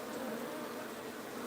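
Wild bees in a hive being moved to a new home, giving a continuous low drone of many buzzing insects, steady and quiet, with no talking.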